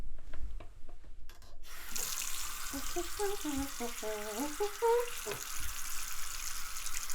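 Water runs from a kitchen tap into a sink as a steady broadband rush lasting most of the clip, with a few faint clinks and knocks and some tonal squeaks mixed in.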